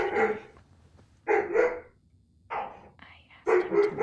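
Several dogs barking indoors in a house, bursts of loud, fairly close barks coming in clumps with short quiet gaps between them.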